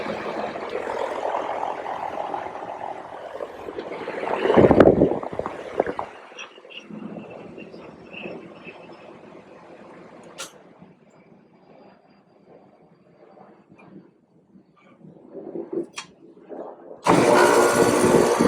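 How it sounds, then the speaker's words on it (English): An air conditioner compressor with a failed dual run capacitor and a hard start kit hums and rumbles steadily while restarting, then grows quieter. A sharp burst of broadband noise comes near the end. "You're going to hear a different sound because you'll hear the the compressor."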